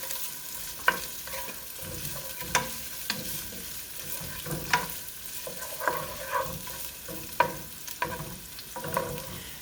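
Pancetta fries in a pan with a steady sizzle, broken by repeated clinks and scrapes as it is stirred every second or so, close and moderately quiet with no talking.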